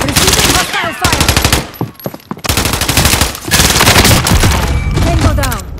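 Rapid automatic gunfire bursts in Call of Duty: Warzone, loud and close, with dense strings of shots separated by brief pauses and a short quieter gap near the middle.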